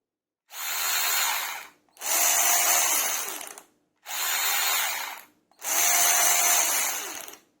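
A Parkside 12 V cordless ratchet whirs in four bursts of a few seconds each, separated by brief pauses, loud and close.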